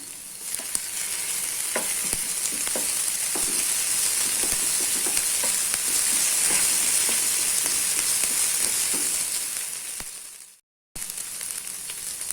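Ginger garlic paste frying with onions for a banyard millet vegetable khichdi, a steady close sizzle with scattered crackles and spatters that holds for about ten seconds, drops out briefly, then resumes.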